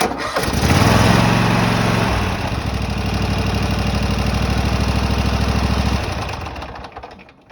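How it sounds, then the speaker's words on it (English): A small engine cranks and fires after a stuck solenoid is replaced, then runs with a loud, steady, fast-pulsing idle for several seconds before cutting off. "See if this motor will turn over."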